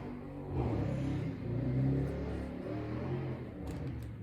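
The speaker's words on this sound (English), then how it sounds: "Some uncouth people doing donuts outside." A car engine revs and whines in the distance, rising and falling in surges over a low rumble, muffled as if heard from indoors.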